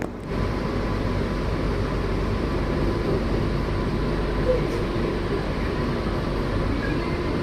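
An air-conditioned EMU commuter train runs at speed, a steady low rumble and rolling hum heard from inside the carriage, with no clear voices.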